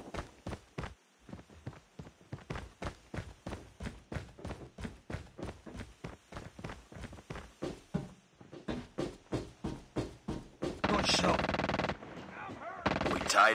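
Rapid bursts of automatic gunfire in a ranked video game match, sharp repeated shots in steady volleys for most of the stretch, giving way to denser, louder sustained firing near the end.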